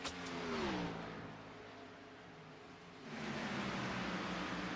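Stock race cars roar past on a Texas oval during a night race, engines rising in pitch as one passes close, fading slightly, then another loud surge of engine noise sweeps through.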